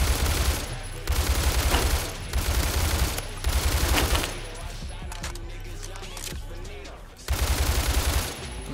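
Bursts of automatic fire from an AK-pattern light machine gun in Roblox Phantom Forces, several loud sustained volleys separated by short pauses.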